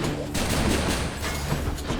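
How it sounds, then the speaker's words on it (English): Explosions in the video game Hades burst in quick succession, loud overlapping blasts and crackling impacts packed into a chaotic stretch of combat. "Keep the explosions coming"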